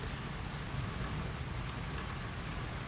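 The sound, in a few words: Florida rainstorm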